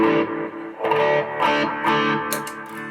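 Electric guitar played through a phaser with distortion, reverb and delay for a song, several sustained swelling phrases ringing out with long effected tails, close and fairly loud, no talking.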